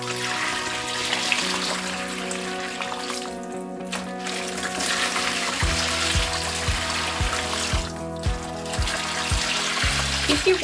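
Water is poured steadily into a container to soak rattan, a continuous splashing rush with a faint hum behind it and a quick run of light clicks in the second half.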